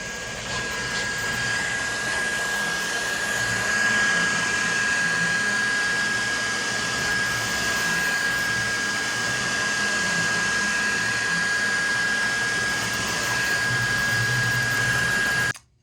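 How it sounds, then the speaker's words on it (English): A 3D printer runs at close range, giving a steady, unbroken whirring hum with a constant high whine, and no one speaks. "So now I'm going to move on to showing you the printer printing."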